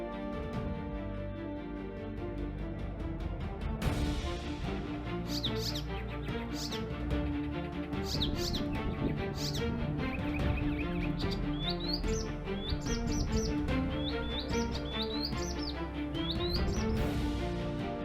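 Vermilion flycatchers on Isabela Island in the Galapagos chirp in repeated short high tweets over a dense, steady layer of background music that runs throughout.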